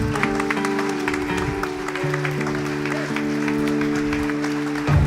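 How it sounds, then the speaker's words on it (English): Audience applause for the Indian cricket team at a vaccine medical conference in Mumbai, a steady crowd clapping throughout, blended with loud sustained music playing over it. "let us give a big round of applause to the Indian cricket team,"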